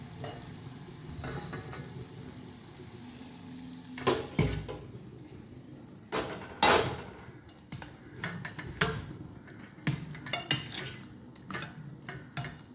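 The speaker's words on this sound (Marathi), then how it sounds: "आता आपण ह्याच्यात डाळ घोटून टाकूया" A metal utensil whisks and scrapes cooked dal inside a pot, with irregular clinks and clanks in short bursts and a faint background hiss.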